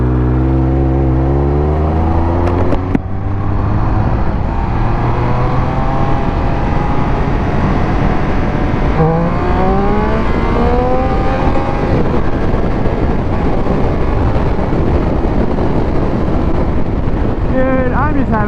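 A motorbike on the road, its engine droning and rising and falling in pitch through gear changes, buried under loud, constant wind buffeting across the microphone.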